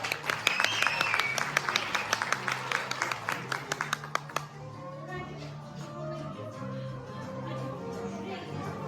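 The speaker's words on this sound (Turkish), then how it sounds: "arkadaşlarımız için güçlü bir alkış istiyoruz" Audience applause at a school reading festival poetry event, a burst of many hands clapping loudly for several seconds before fading into crowd chatter and murmuring.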